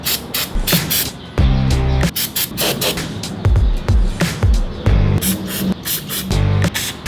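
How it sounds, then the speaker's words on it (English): Short hissing bursts of carburetor cleaner spray repeat several times, loud and close, between mechanical clicks and rattling handling noises while working on a scooter carburetor. "You can see that carb cleaner spraying out of it."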